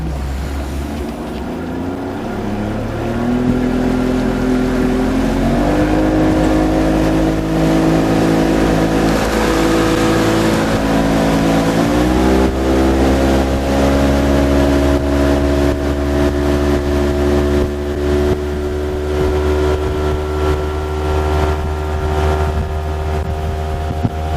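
A 2022 Mercury 60hp outboard on a Starcraft boat accelerates, a loud steady engine drone climbing in pitch in stages as it revs up and holds near full speed, with wind and water noise throughout.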